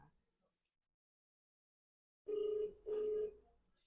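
A busy signal follows a dialed phone call, two steady mid-pitched electronic beeps separated by a short gap after near silence.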